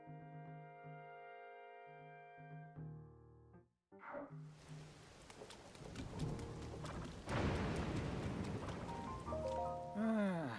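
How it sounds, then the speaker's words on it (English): Steady rain with rumbling thunder in the video game Tears of the Kingdom; after a few seconds of musical tones, a dense, loud wash of rainfall builds and continues to the end, with no talking. "This terrible rain. If you hear any thunder"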